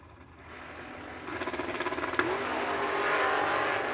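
Drag race launch between a Monte Carlo and a Blazer at a drag strip, engines building from a low rumble into a loud pulsing rev, then a sharp crack and a sustained roaring pull.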